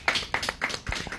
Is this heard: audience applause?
yes